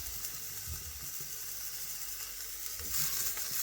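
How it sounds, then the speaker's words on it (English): Burger patties sizzle on a preheated griddle in a quiet, steady frying hiss that grows louder near the end, with occasional soft clatter. "we're going to get these on the griddle"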